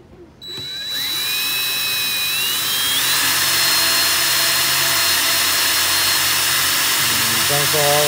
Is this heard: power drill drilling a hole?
yes